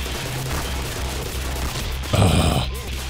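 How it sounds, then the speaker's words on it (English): Gunfire in the shooter game Black Mesa: one loud, close burst of shots cuts through steady game ambience near the end, with no talk. "Where's this other guy shooting me from?"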